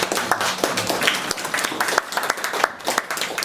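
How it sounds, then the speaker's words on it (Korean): An audience at a hanok concert honoring composer Yun Isang bursts into close, dense applause that fills the hall, with a few sharper individual claps standing out. "박수 한번"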